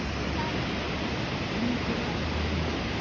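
Gelin Tülü waterfall on the Ayder road in the Fırtına Valley, fed by snowmelt from the mountains, roars as a dense, steady rush of falling water, close and unbroken throughout.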